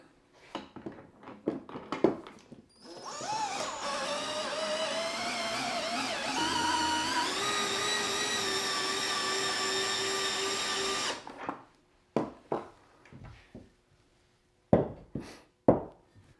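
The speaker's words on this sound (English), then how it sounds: "I have a socket for my drill that I put the drill into low gear." A power drill in low gear, fitted with a socket, whirs steadily at low speed for several seconds, preceded and followed by scattered knocks and handling clatter nearby.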